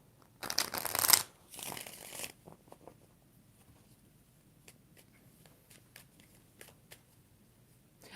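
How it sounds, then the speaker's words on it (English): A deck of tarot cards is riffled and shuffled in two quick bursts, close and crisp, followed by soft scattered card taps and handling noises. "One more shuffle."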